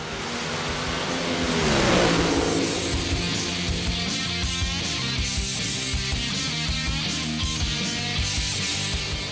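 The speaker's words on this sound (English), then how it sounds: "And Don Blackshear smokes the tires" Nitro Altered drag racing car smoking its tires in a burnout at the Palm Beach Nationals, a loud, continuous roaring engine with a raspy revving swell that peaks early and stays dense throughout.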